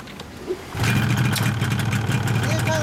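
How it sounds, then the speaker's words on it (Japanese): A 1988 Yamaha RZ250R parallel-twin two-stroke motorcycle revs up after a quiet start, its engine climbing into a loud, buzzing, sustained drone close by. "エンジン音聞かせてもらえるかな。"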